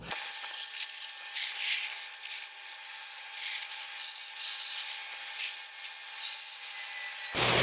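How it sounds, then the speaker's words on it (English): Steady close scrubbing of a vehicle with a brush and shampoo, a hissing, abrasive texture, continuous and fairly loud throughout. "I'm gonna give this thing a little bit of a scrub here with that stuff"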